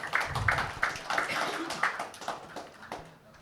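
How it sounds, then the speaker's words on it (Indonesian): Scattered, uneven clapping comes from a small group at a national association meeting, with distinct separate claps in a loose rhythm, and voices murmur and talk underneath. "Sekali lagi boleh kasih tepuk tangannya rekan-rekan?"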